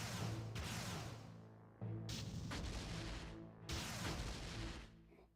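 Booming cannon blasts in the R-Type Tactics video game, three heavy broadband hits with long rumbling decays, each one cutting in sharply, loud and close with no talking.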